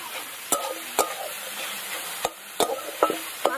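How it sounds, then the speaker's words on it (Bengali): Red amaranth greens frying in a pan, with a soft steady sizzle broken by several sharp scrapes of a spatula stirring them at close range. "শাক ভাজা কিন্তু প্রায় হয়ে এসছে"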